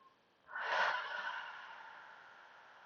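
A single deep breath during a Pilates stretch for the lower back, a soft airy exhale swelling quickly and then trailing off slowly, close and alone in a quiet room.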